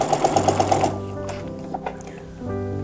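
A sewing machine runs a straight seam, its needle clattering in a fast, close rhythm before slowing and then starting up again.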